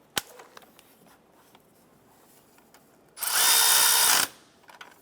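A power tool whirs in one loud, steady burst of about a second, tightening the center bolt on the water pump of a 2008-2012 Honda Accord engine, amid quiet clicks and taps from the tools before and after.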